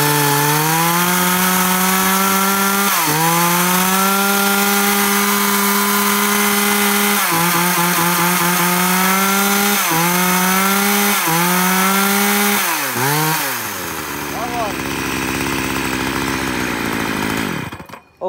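A used Japanese chainsaw cutting wood runs at a loud, steady high rev, broken by brief dips in pitch as it bites. It then winds down and stops.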